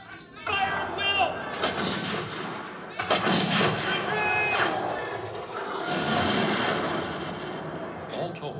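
Light infantry muskets fire a ragged battle volley, heavy booming blasts and rolling reports running for several seconds amid battlefield shouting, at moderate distance.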